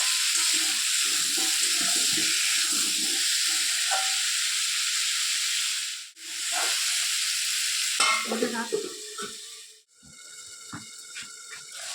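Vegetables stirred in a hot pan, steady sizzling frying with scraping and clinking of the spoon against the pan, briefly cut twice, then continuing with louder scrapes near the end, no talking.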